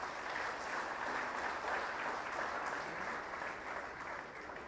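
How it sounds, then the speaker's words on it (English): A seated audience at the Global Mindfulness Summit 2018 inauguration gives student performers a steady round of applause, moderately distant and even, with no voices on top. "A round of applause for them would be good."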